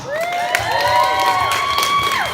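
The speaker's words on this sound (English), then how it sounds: "Give them a round of applause." A crowd at a convention panel roars with cheering, whoops and high excited shouts over applause, loud and continuous throughout.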